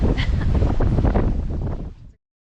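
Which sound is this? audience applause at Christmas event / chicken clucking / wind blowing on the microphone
wind blowing on the microphone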